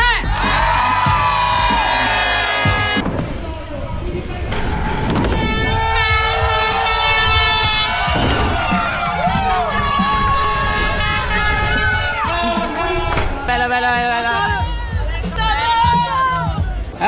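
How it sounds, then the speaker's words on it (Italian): A large crowd gathered at a riders' contest cheers and shouts a loud welcome, a sustained roar of many voices that carries on without pause and swells and dips throughout. "un urlo di benvenuto per i nostri rider"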